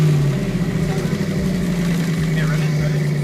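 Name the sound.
car engine running through Ford Eco exhaust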